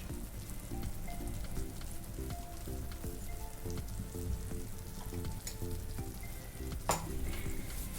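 Banana sheera made with suji, nutmeg and cardamom cooks in a pan with a soft, steady sizzle and patter, plus faint stirring clinks, quiet and close with no voices.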